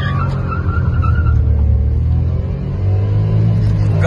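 A Ford Figo accelerates hard in a drag race against a Maruti Swift, a loud continuous engine rumble heard from inside the car, shifting gear partway with the drone climbing again.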